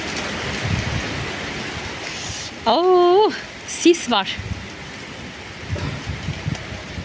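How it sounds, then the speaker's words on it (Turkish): Rain falls outdoors on a cold day in Iskenderun, a steady soft patter and hiss running through the whole stretch, while a person talks and a brief tonal electronic sound cuts in midway. "Yağmur yağıyor."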